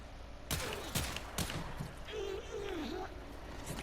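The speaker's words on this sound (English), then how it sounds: "let's show you the regular damage that these pistols do" Mesa's pistols firing in the video game Warframe: three sharp gunshot bursts in quick succession, then a voice talking over continuing game noise.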